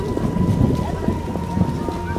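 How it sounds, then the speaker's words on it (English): Heavy rain pours down in The Witcher video game, a steady, dense hiss of downpour with faint low rumbles beneath, continuous throughout. "Real downpour."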